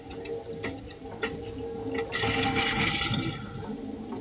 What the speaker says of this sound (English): Still making gurgling noises as it's filling up